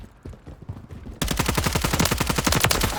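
Rapid bursts of automatic gunfire in Call of Duty Modern Warfare 3 start abruptly after a quiet stretch of faint movement, then carry on as loud, close, closely spaced shots with no one talking.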